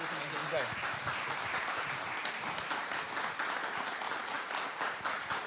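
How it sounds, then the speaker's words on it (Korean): Audience applause at the 2023 POSCO TJ Park Prize award ceremony, steady dense clapping filling the hall for several seconds, with a brief voice near the start. "여러분 큰 박수 부탁드립니다"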